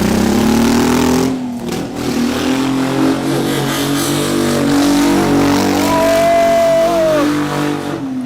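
A home-built Lamborghini replica engine revs loudly and keeps roaring while the car spins a donut, pitch rising and falling with tire noise, close and steady throughout.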